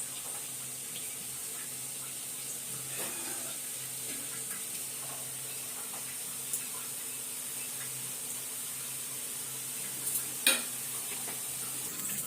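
Roti batter sizzling in an oiled pan on the stove, a steady close hiss and crackle running throughout with a few faint clinks.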